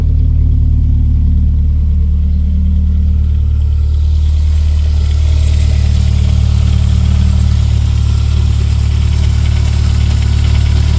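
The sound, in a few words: 500bhp Toyota Celica GT-Four ST205 engine idling, warming up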